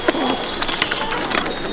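Pigeons in a loft cage in Chandannagar give brief, soft cooing calls against a noisy, hissy background, with faint voices nearby.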